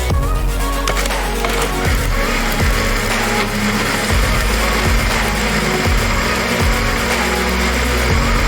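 A loud, steady blender whirs continuously with a low motor drone, its pitch dipping rhythmically every second or so as it churns liquid carp bait ingredients, including glycerine.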